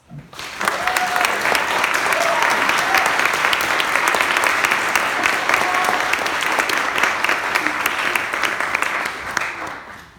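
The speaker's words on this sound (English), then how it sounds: "I would like for you all to thank them as well with applause." Sustained audience applause fills a school chapel, a dense and even wash of many hands clapping that swells in quickly and holds steady for about ten seconds before tapering off.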